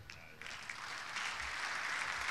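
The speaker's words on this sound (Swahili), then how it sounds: "Makofi tena, tuongeze wana VETA, tuongeze makofi mengi sana." A crowd applauds at a Tanzanian VETA 30th-anniversary closing ceremony, sustained clapping that swells and grows denser toward the end, with no talk.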